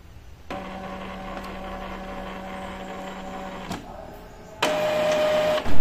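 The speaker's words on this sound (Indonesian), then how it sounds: "sekitar 5 menitan sampai dia tidak bunyi-bunyi lagi printernya" An Epson inkjet printer running a head cleaning gives a mechanical whirring hum that runs steadily, pauses briefly, then resumes with a higher tonal whine, ending in a louder burst; no talking.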